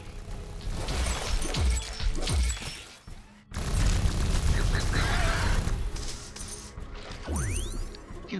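Heavy weapon fire and shattering explosions in the sci-fi base-building game The Riftbreaker, loud dense bursts with crashes and a short gap, while a voice talks over it.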